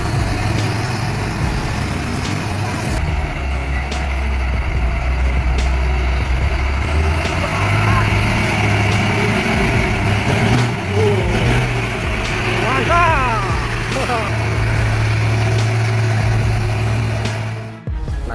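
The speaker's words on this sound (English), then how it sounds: "The experienced old driver steered the truck over every obstacle." A heavy timber-hauling truck grinds over rough ground with a loud, steady diesel engine roar and low rumble throughout, close and continuous, with creaks and clunks from the load and a brief whining strain partway through.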